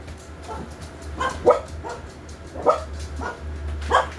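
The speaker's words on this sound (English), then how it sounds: "Excuse the dogs." Several dogs barking indoors in scattered bursts, short sharp barks and yips spaced about a second apart, moderately close over a low steady hum.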